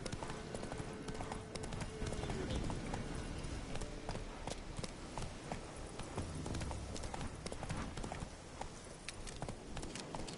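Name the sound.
horse galloping, The Witcher 3 video game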